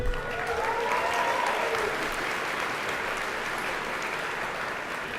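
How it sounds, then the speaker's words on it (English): An audience at a tech awards ceremony cheers and applauds, a dense, sustained wash of clapping with a few whoops and a brief raised voice near the start. "A big cheer for Paddy Cosgrave and the whole Summit team this evening."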